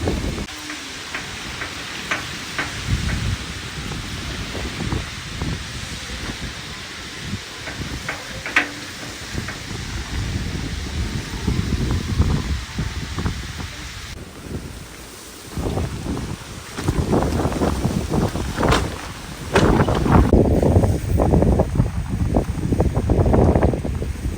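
Strong wind buffets the microphone in rushing gusts over a heavy wash of falling rain in a village, growing louder and rougher toward the end.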